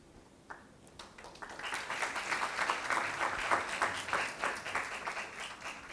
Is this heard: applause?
yes